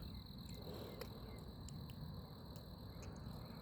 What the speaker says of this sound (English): So you hear the crickets